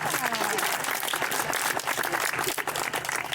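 An audience applauds loudly and steadily for about three seconds, dense clapping filling the room, with some talk faintly mixed underneath.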